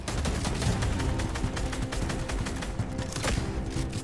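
Gunfire in Fortnite during a one-on-one fight, a steady dense barrage of rapid shots with heavy low booms, loud and continuous throughout.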